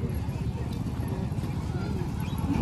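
Horse hooves clip-clop steadily at the seaside over a constant din of crowd and surf, with faint voices mixed in.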